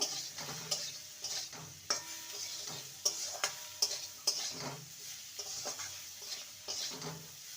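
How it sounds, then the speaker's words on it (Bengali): Bitter gourd fries in a pan with turmeric powder and salt while it is stirred. A soft steady sizzle runs under repeated scraping strokes and light ticks of the spatula against the pan, close up and with no voices. "দিয়ে দেবো সামান্য হলুদ গুঁড়ো আর স্বাদ অনুযায়ী লবণ আবারও ভালো করে নেড়ে নেব"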